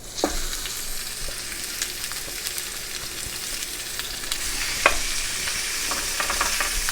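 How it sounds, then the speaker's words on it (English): Pork chops seasoned with rosemary sizzle in a hot pan, a steady crackling fry with occasional louder pops, continuous and moderately loud with no talking. "So go ahead and put your chops in with the seasoning side first"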